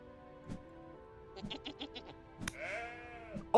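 A goat bleating in the video game Vintage Story: one short bleat, then a quick run of clipped cries and a longer wavering bleat, fairly faint against quiet game ambience.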